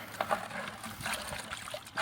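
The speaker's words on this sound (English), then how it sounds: "Now I'll just squirt them down with water." Water is squirted onto freshly degreased engine parts such as a connecting-rod cap, giving a close, uneven splashing and dribbling spray that runs steadily for about two seconds, with brief louder spurts.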